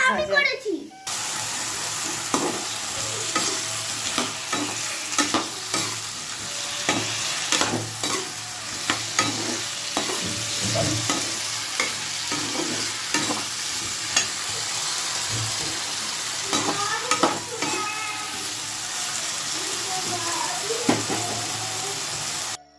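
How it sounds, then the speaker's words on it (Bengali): Small chopped potato pieces frying in a pan, a steady sizzle broken by repeated spatula scrapes and knocks, with a voice talking faintly in the background. "আলু ভেজে নিচ্ছি যেটা টুকরো টুকরো করে কেটে রেখে দিয়েছিলাম"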